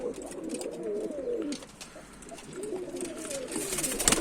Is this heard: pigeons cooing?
yes